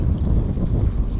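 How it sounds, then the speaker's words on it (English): Strong wind by San Diego Bay buffets the microphone in a deep, steady roar with rumbling gusts, close and loud, while fishing from the shore. "Oh, man, it is windy."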